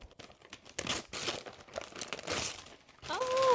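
Crinkly paper gift wrap is unwrapped from a book, rustling and tearing in close, continuous bursts, ending with a brief spoken voice.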